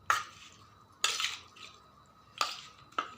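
A spoon stirs chicken with salt and turmeric in a metal pot, giving four sharp clinks and scrapes spaced irregularly against a quiet kitchen background.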